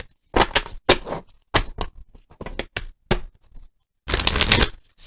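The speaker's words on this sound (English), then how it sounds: "I feel tonight like we're going to shuffle." Tarot cards being shuffled by hand during a love reading, a series of quick riffling bursts with pauses between, close and fairly loud, ending in a longer continuous shuffle.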